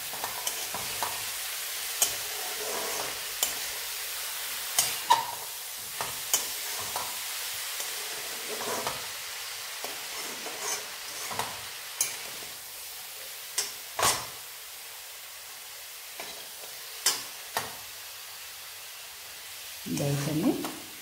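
Food sizzles softly in a pan while a utensil stirs it, giving scattered scraping clicks and taps over a low hiss, with a louder stir near the end.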